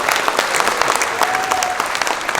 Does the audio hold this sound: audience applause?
yes